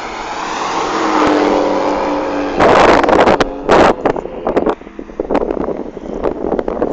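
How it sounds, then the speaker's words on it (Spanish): Drag racing cars at the Puebla racetrack during Saturday drag runs, a loud engine roar with wind buffeting, then sharp bursts of revving and acceleration that cut in and out as vehicles launch nearby. "Escuchen el rugir de los motores."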